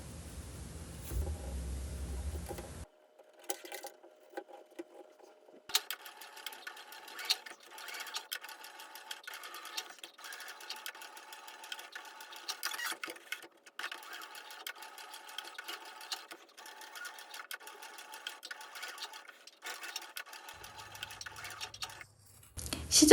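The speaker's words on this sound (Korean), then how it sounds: "이제 안감 원단을 재봉해 줄게요." A sewing machine stitches the lining fabric of a quilted iPad pouch. After a brief pause, a steady, fast mechanical whirring runs in long stretches, close and moderately loud, with no speech.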